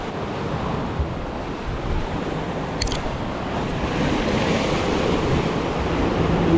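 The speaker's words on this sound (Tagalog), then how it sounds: "Laki ang alon mga master." Big ocean waves roll onto an island shore, a constant loud rushing surf buffeted by wind noise on the microphone, with no voices and the water dominating throughout.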